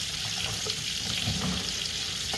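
Tap water runs steadily into a kitchen sink while a knife blade is rinsed under it, giving a continuous close splashing hiss with no pauses.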